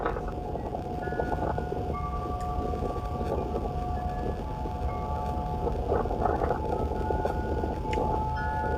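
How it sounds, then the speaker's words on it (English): Strong wind roars and buffets steadily at a Flying J truck stop in Jurupa Valley, California, with faint wind chime tones and rattles drifting through the gusts. "Pretty windy there, it sounds like."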